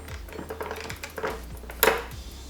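Plastic lid of a Lilumia makeup brush cleaning device being lifted and opened, a run of light clicks and small plastic knocks up close, ending in one sharper snap.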